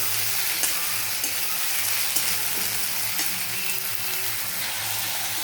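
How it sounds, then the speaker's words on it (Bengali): Steady, close sizzling and crackling of onions frying in a pan, with occasional soft stirring clicks, no voices. "দেখো বন্ধুরা, পেঁয়াজটাকে ভাজছি এখন"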